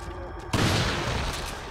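Shotgun blast in Resident Evil 4 on GameCube, fired in a sewer at invisible monsters: one sharp, fairly loud report with a short rumbling tail, a brief quiet moment before it.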